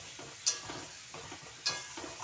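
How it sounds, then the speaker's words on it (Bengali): Karkol (spiny gourd) and spices cook in a pan with a little water, stirred with a few scraping strokes and two sharper clanks over a soft, faint sizzle. "কারকল আর মশলা একসঙ্গে ভালোভাবে কষিয়ে নেব।"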